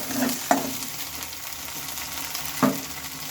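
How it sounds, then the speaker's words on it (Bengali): A paste of ground garlic, ginger, cumin and coriander frying with onions gives a soft continuous sizzle, with a couple of sharp spatula knocks against the pan and no one speaking. "এবার বাটা মশলা দিয়ে নিয়ে ভালোভাবে মশলাটা কষিয়ে নিতে হবে"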